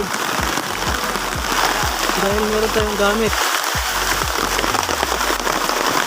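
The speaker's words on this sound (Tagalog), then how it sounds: "Ang lakas ng ulan." Heavy rain pours down outdoors during a hunting trip for barred rails, a steady dense hiss of drops filling the whole stretch while people talk over it.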